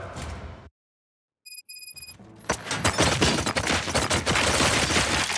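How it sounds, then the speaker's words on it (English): After a sudden silence and a few electronic beeps, rapid bursts of loud gunfire erupt and continue, a dense chaotic barrage, in the video game Robocop: Rogue City. "Gunshots? What's going on?"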